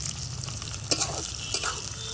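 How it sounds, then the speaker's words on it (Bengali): Chopped onions go into hot oil with whole garam masala on an old, weak stove for a spiced tripe (bhuri) dish, hissing in a steady sizzle broken by a few sharp scrapes and stirs of the spoon, with no talking. "এবার দিয়ে দিব পেঁয়াজ কুচি।"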